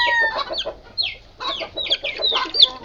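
Clucking from a mother hen with her one-month-old chicks, in repeated soft bursts and higher chirps that carry on through the whole stretch, fairly close.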